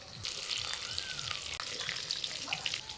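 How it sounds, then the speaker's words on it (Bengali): Potatoes fry in mustard oil in a wok, a quiet, steady sizzling crackle with faint intermittent splashes and light clatter mixed in. "আলু ভাজা হতে থাক"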